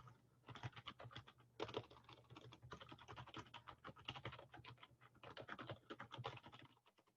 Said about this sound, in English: I am going to type something into the chat